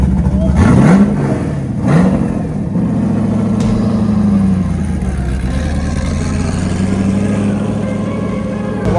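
An LS-swapped Porsche Cayman with a wide body at a Cars and Coffee meet in Palm Beach gives a couple of sharp, close throttle blips, then settles into a loud, rumbling idle that swells gently; crowd noise sits faintly underneath.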